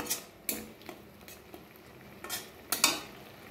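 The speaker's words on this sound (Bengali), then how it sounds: "এবারে আরেকটু ঘন করার জন্য আরেকটু নাড়াচাড়া করব আমি" Sugary pineapple chutney syrup being stirred in a pan: quiet, with a handful of separate scraping spoon strokes and light clatters against the pan over a faint simmer.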